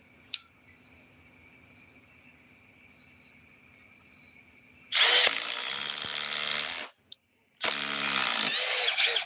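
A brushless power tool whirs up loudly for a couple of seconds, cuts out briefly, then spins up again, following a quiet stretch of faint background hum.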